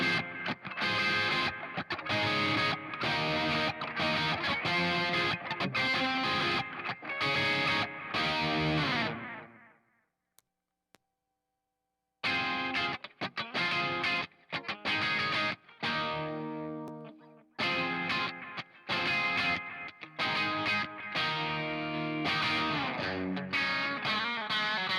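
Distorted electric guitar played through an iSet analog delay pedal, driving chords and notes trailing into echoing repeats, with a brief silent gap midway before the playing resumes.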